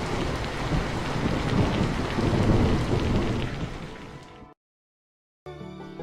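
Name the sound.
heavy rain with thunder, storytelling sound effect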